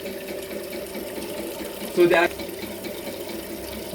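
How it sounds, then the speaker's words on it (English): An electric motor pumps water up from a reservoir to drive small turbines, making a steady mechanical hum with watery churning. A brief voice speaks over it. "a reservoir here with a motor pumping the water up"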